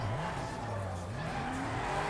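Car tyres skid and squeal under a steady engine drone in the racing video game Midnight Club Los Angeles, a continuous loud wash of road noise without any clear crash impact.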